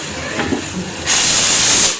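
A pressure cooker cooking rice lets off a loud, close burst of hissing steam that rises sharply, holds for nearly a second, then cuts away, following a quieter stretch of kitchen noise.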